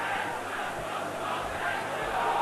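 An enthusiastic football crowd roars steadily at a 1990s Crewe Alexandra match, a dense continuous wash of chanting and cheering from a distance with no clear talk.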